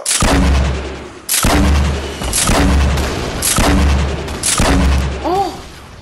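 Five heavy grenade launcher explosions in the video game Fortnite, evenly spaced and loud, each a sharp blast with a deep rumbling tail, with a few short electronic chirps near the end.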